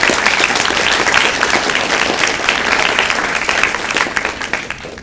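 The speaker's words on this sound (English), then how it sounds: "Good moment for a clap." A crowd at a primary schools state debating championship claps in loud, dense, continuous applause that thins slightly toward the end, echoing in a large room.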